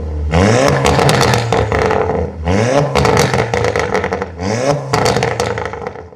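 A heavily modified 2-litre Golf R engine revs hard in three bursts through a full Akrapovic exhaust with downpipes, each climbing in pitch and then dropping, loud and close with a raspy note.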